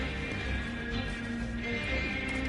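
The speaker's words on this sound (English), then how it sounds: "Come here, horse, stop running." A horse in Red Dead Online neighs and snorts over steady hoofbeats and dense game ambience, moderately loud and close, with no talking.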